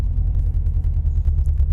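A Subaru WRX, being repaired after a crash, idles with a steady low engine rumble, near and continuous, with no talk over it.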